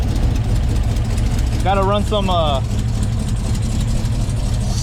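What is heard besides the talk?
cammed LT1 V8 engine idling in 2017 Chevrolet Silverado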